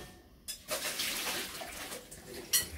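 Water from cooked instant noodles rushes through a strainer into a sink in a close, splashy pour of a couple of seconds, ending with a sharp clatter.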